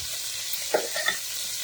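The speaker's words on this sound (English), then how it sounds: "Let it sear on that side." Meat sears in a hot pan with a faint steady sizzle and a couple of brief soft crackles, low in level.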